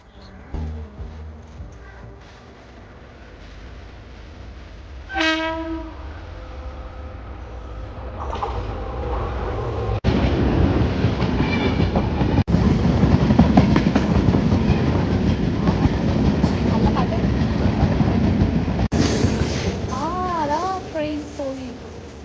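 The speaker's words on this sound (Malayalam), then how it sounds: "7:09 കോട്ടയം എക്സ്പ്രസ് കാണാം" The Kottayam Express train rumbles in and passes close by, building to a loud sustained roar with rattling wheels; brief voices and a horn-like tone occur early and near the end.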